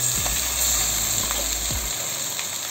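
Shredded stingray fish frying in oil with golden onions in a pan over medium flame, a dense continuous sizzle with a few low scraping stir strokes early on, close and steady, no voices.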